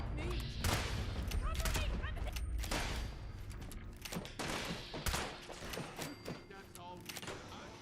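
Gunfire in the video game Fallout 76, repeated sharp shots and bursts mixed with game effects, heard under someone talking throughout.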